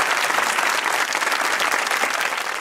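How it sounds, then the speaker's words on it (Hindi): Studio audience at a comedy talk show bursts into steady, loud applause, a dense wash of many hands clapping evenly from start to finish. "तालियां बजाइए"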